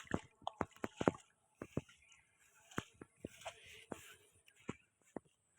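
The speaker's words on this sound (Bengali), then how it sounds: "এই যে জল কাদা দিয়ে হেঁটে যাচ্ছি" Footsteps squelch through rainy-season mud and water on a village path, a run of wet, sucking steps at an irregular walking pace, close and fairly quiet, with no talking.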